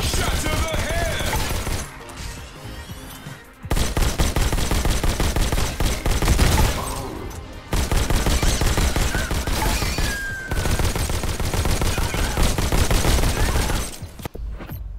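Dense, loud gunfire from the VR game Robo Recall comes in rapid bursts of repeated shots, separated by a few short pauses.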